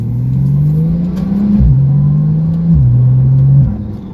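A Porsche Turbo S engine pulls hard through the gears, a loud, close rising whine and rumble broken by two quick dips at the shifts before climbing again.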